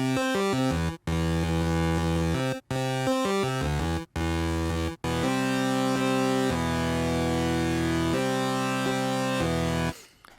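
Layered 8-bit chiptune rhythm guitar parts, three copies panned apart and slightly detuned, play steady sustained square-wave chords, broken by a few short gaps before a long held section that cuts off at the end.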